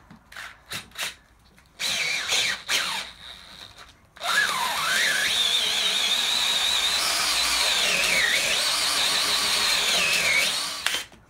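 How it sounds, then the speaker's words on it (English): A power drill bores into a homemade rocket stove, first in short stop-start bursts, then in one long, loud whining run whose pitch dips and climbs as the bit works through the material. "The drill is a little bit hot now, so I'm going to give it a break."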